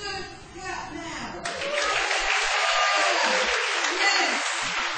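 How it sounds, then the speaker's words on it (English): A church congregation at a morning service claps for Jesus, sustained fairly loud group applause that begins after a short spoken line and continues evenly to the end. "Let's give Jesus a real good clap now."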